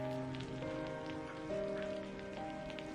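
Steady rain falls through the night in a village, a constant, even patter with faint sustained tones running beneath it.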